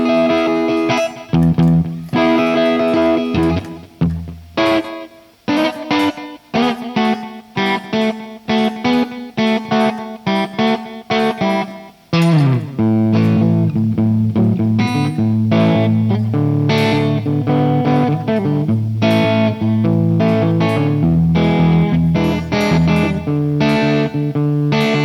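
Bluesy electric guitar on a budget Stratocaster-style guitar, played loud and alone: a run of picked licks and bent notes opening into sustained, ringing chords with a slightly driven tone.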